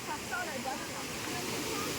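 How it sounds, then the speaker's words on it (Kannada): A waterfall on an outdoor family trip roars as a loud, constant broadband rush. Voices speak faintly underneath it. "ಚೆನ್ನಾಗಿದೆ ಫ್ರೆಂಡ್ಸ್ ಇದು ಫಾಲ್ಸ್"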